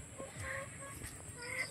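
Backyard chickens kept in Naic clucking softly at close range, a few short fowl calls scattered over quiet outdoor ambience.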